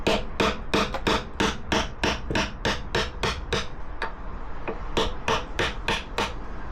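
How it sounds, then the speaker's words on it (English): A copper mallet strikes a steel drift to knock the headstock bearings off a Triumph Daytona 675 motorcycle: a fast, even series of sharp metallic taps, close up, with a brief pause before the hammering resumes. "I'm just using a drift and a copper mallet to take these off"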